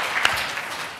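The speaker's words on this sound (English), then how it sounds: "Do I not get a round of applause?" A brief smattering of light applause from an audience at a science demonstration of burning lighter fuel, with one sharper clap near the start and softer scattered clapping after.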